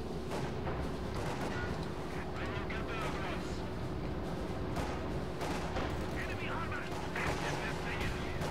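Tank cannon and gunfire in the World War II strategy game Company of Heroes 2, a dense battle soundscape of repeated booms and shots over a steady engine rumble, with a voice talking throughout.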